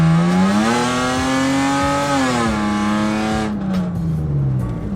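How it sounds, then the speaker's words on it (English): Engine drone of a Lexus car fitted with a new exhaust, heard from inside the cabin with the windows up: a loud, steady humming tone that rises and eases through a gear pull and then settles into cruise, with no talking. "this is how loud the car is from like the inside with everything up."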